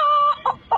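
A mimic's voice imitating a chicken, a sustained nasal call followed by two short clucks, close and loud in a quiet setting.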